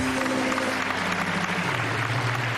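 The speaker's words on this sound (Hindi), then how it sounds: "आप तीनों के लिए तालियां" Applause from a game-show studio audience for three guests, a dense steady patter of clapping filling the room throughout with a low musical hum underneath.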